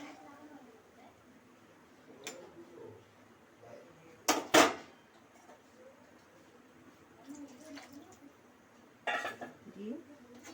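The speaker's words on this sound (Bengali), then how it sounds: "দিয়ে ঢাকনাটা চাপা দিয়ে দিলাম" A metal lid clanks down onto a pot of simmering potato curry, with one sharp double clatter in the middle, a softer knock later, and a quiet voice talking around it in a kitchen.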